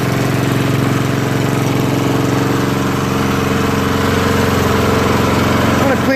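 Small lawn mower engine running steadily after a carburetor cleaning, a loud, close, constant idle-like drone with an even rapid firing pulse throughout and no voices.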